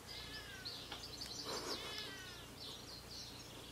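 A pet cat meows softly a few times in a quiet room, faint and close, with no talking.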